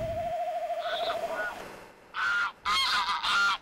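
Several grey geese honk in short bursts at a moderate distance during migration, preceded by a long steady hooting note and quieter calls.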